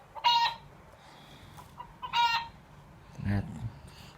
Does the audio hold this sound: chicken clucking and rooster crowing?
yes